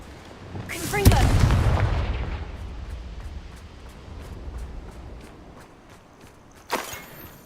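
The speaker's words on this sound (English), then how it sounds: "Confringo." A Confringo fire blast spell in Hogwarts Legacy lands as a heavy boom with a crackling tail that fades over several seconds, followed later by a second sharp impact.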